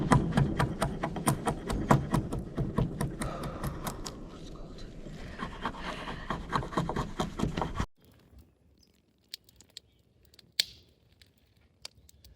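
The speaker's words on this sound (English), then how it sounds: "I'm gonna make some kindling and shavings to get a morning fire going." Wood being split and shaved into kindling and shavings at a spring campsite for a morning fire, a dense run of sharp cracking, scraping strokes for about eight seconds, then near silence broken by a few isolated faint clicks.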